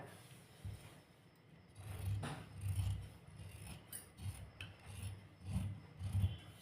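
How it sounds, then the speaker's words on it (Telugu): Blouse fabric cut by hand with scissors along marked lines, heard as close, rough rasping cuts in uneven bursts of snipping over a low rumble. "ఏ విధంగా అయితే మార్కింగ్ వేసానో అదే విధంగా హ్యాండ్ కటింగ్ అయితే చేసేస్తాను"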